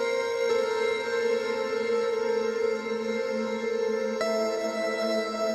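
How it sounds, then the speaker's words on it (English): Serum synth electric piano patch with an acoustic piano character, sustained, soft chords held steadily with a new chord entering near the end, moderately quiet and with no voices. "So this has more of an acoustic piano sound to it."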